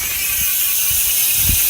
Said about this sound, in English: so here's what it sounds like. It's a Cruiser 142 hub.